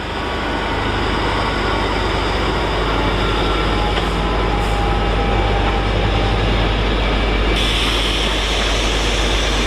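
Class 66 locomotive 66769 hauling a semi-loaded freight train past Doncaster on the East Coast Main Line, a steady loud diesel rumble with rolling wagon noise held close and constant throughout, no voices.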